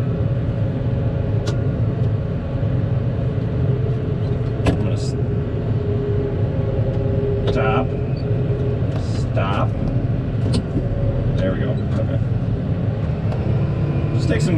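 A CASE Magnum 210 tractor drives in gear 12 at about 3.5 mph, its engine a loud, steady, close rumble heard from the cab, with someone talking over it.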